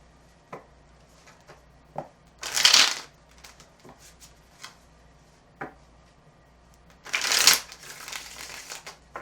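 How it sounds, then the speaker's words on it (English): Two bursts of tarot cards being shuffled, one around the middle and another near the end, with soft taps and handling noises in between. "Big shuffle."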